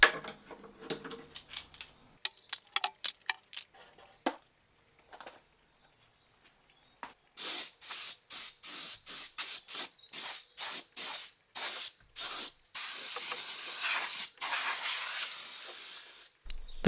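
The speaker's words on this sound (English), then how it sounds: "I also sprayed the casters with clear satin lacquer" Clear satin lacquer sprayed from a can onto the casters of an old tea trolley during restoration: a series of close, loud hissing bursts, each a second or so long, separated by short pauses, following quieter handling clicks and taps.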